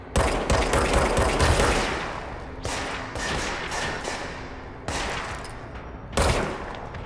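Enemy gunfire in the video game Control, with rapid bursts of automatic shots and heavy thuds that come in several loud volleys separated by short pauses.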